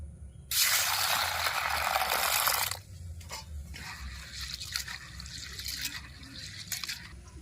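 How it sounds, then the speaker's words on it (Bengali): Red lentils being rinsed in water in a kitchen: a loud rushing pour of water for about two seconds, then quieter sloshing, dripping and trickling as the grains are swirled by hand, with no talking. "এবার ডাল ধুয়ে নেব"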